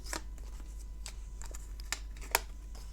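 Tarot cards shuffled by hand, giving soft, close riffles and snaps with a sharper flick near the end over a low background hum.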